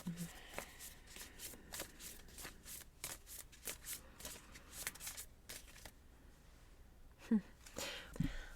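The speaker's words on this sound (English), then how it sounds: "We'll just shuffle these cards" A deck of affirmation cards being shuffled by hand, a close run of quick riffling bursts and soft flutters in an irregular rhythm, ending with a couple of light taps.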